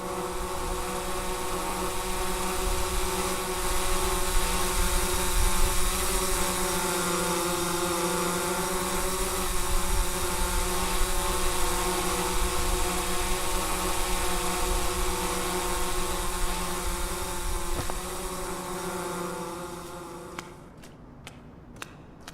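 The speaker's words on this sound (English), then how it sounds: "you hear the drone that is supposed to deliver your stuff that you just bought from the black market" Delivery drone in the horror video game Welcome To The Game 2, a steady droning motor hum with layered tones holding loud and even for about twenty seconds before cutting off near the end, with no talk.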